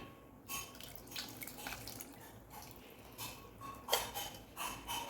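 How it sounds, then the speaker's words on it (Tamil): Tamarind water pours and splashes steadily into a pot of dry fish kulambu, with soft trickling and a few small metallic clinks, no voices. "இப்போ நான் எடுத்து வச்சுருக்க புளி தண்ணியை ஊற்றிக்கிறேன்"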